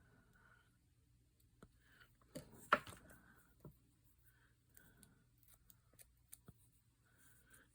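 Scissors trim paper on a handmade journal, giving a few faint, sparse snips and light paper rustles close up in a quiet room.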